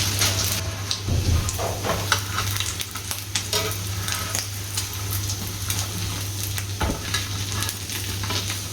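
A street-style potato sandwich fries on a hot pan, giving a constant close crackle and sizzle, broken by a few scraping clicks as it is moved or turned, with a low steady hum beneath.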